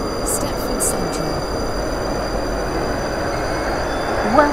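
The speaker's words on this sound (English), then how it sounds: "The train now approaching Platform 8 terminates here." A train in the Roblox game Stepford County Railway pulls into a platform, a steady rolling rumble with high chiming tones early on and a rising wheel squeal near the end as it slows.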